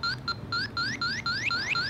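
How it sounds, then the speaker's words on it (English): A handheld refrigerant leak detector gives a steady series of regular, moderately loud electronic beeps that sweep upward in pitch, with a quiet background hum. "That's a normal beep. When it beeps fast,"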